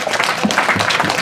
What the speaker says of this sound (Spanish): Dense un aplauso, muy bien.